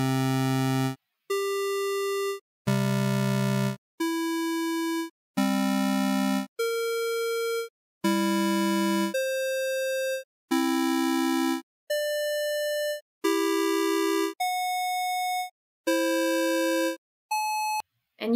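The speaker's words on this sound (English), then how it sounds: "And you can hear some of those summational tones are not as harmonic as the differential ones were." Paired pure tones sound in a Helmholtz demonstration of summational combination tones, alternating between a low and a higher steady beep, each about a second long. Clean electronic tones with short gaps, no voice.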